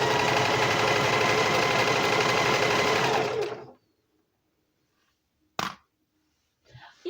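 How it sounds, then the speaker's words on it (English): A domestic sewing machine running a straight stitch, a loud steady whirring burst for about three and a half seconds that stops abruptly, followed by silence and a couple of faint knocks. "on this part I am using straight stitch."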